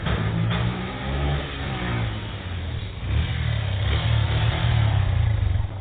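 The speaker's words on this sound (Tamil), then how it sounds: "நீ வண்டியை ஓட்டு." A vehicle engine revving and accelerating as it is driven on a road, a steady close motor drone that swells louder toward the end, with no talk.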